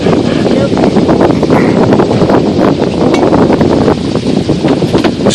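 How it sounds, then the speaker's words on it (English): Brisk 10-15 knot wind buffets a sailboat off Catalina Island, loud steady roaring gusts and rustling close to the microphone throughout. "Boy, we got a pretty brisk wind"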